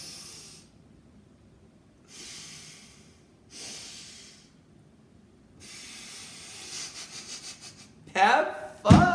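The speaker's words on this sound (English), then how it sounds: "Take a deep breath with me. Do some nostril breaths with me." Several sharp nasal breaths drawn in and pushed out through the nostrils as a breathing exercise, each a hissing rush with pauses between, growing louder and quicker toward the end.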